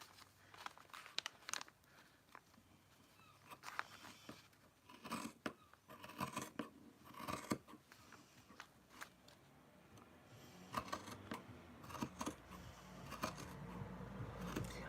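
Scissors cutting through the woven fabric edging of a handwoven, handspun-yarn garment, giving scattered crisp snips and crinkling fabric rustles at close range, irregular and quiet, with no talking.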